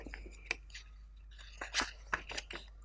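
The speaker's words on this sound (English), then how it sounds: "I'm pretty confident with my knife, and I'm just going to trace around it directly onto the paper" A craft knife slices through a paper envelope along a traced line, giving several short, crisp scratchy cuts in quick irregular bursts, close and fairly quiet, with no talking.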